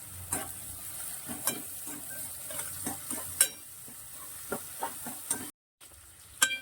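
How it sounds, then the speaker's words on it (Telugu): Chopped onions frying and sizzling in a pan for a cucumber chicken curry, with steady sizzle under repeated stirring scrapes and light clinks of a utensil against the pan, ending in a brief gap of silence. "ఉల్లిపాయలు బాగా గోల్డెన్ కలర్ వచ్చేంత వరకు వేపాలి"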